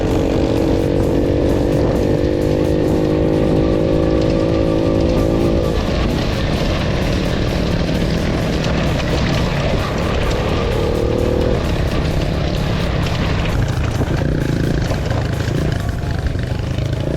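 Delta 50cc and Viper 150 motorcycles ride off-road along a field track, their engines droning loud and constant with rising and falling revs, close and unbroken throughout.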